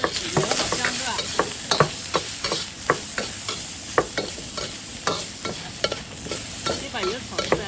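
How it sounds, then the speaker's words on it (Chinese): Pickled cabbage and pork stir-fried in a wok to render out the fat, with a steady loud sizzle and repeated sharp scrapes of the spatula against the pan, close and continuous. "把油炒出来"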